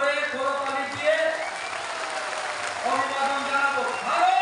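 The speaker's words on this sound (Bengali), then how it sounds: "সবাই আমরা সদরে করতালি দিয়ে" A crowd applauding at an outdoor political rally, clapping spread out and steady under a loud voice speaking through a public address system.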